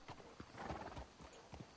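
Horses in Red Dead Redemption 2 clop their hooves in an irregular rhythm close by, with a short whinny partway through, no voices.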